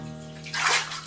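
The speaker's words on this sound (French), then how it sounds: "Donc je vais me rincer les cheveux à l'eau tiède." Lukewarm water running and splashing in a bath as hair is rinsed, a brief close rush that swells midway over a steady background hum.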